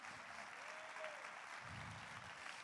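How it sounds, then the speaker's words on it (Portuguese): Church congregation applauding during a sermon, a steady, fairly quiet wash of clapping from a gathered crowd, sustained without speech. "você pode aplaudir a Deus por isso?"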